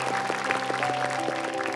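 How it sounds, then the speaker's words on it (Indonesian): Applause from a studio audience on an Indonesian televised Quran memorization competition, a steady dense patter of many hands clapping with a musical tone sustained underneath throughout. "Tepuk tangan untuk Rayyan"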